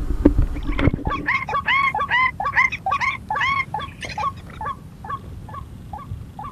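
A rail (burung tikusan) calls outdoors during an air-rifle hunt: a fast series of about a dozen harsh, honking notes, fairly close and clear, that slows and fades toward the end after a brief thump at the start.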